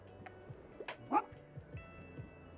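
Dog in the video game Tiny Bookshop giving a few short yips and barks among quiet soft game chimes and clicks, low in level.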